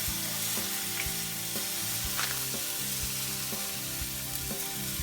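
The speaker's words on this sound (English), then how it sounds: "Hear the sizzle." Steady sizzling from a turkey on a hot smoker grate, with soft crackles and pops over a constant hiss and low hum underneath.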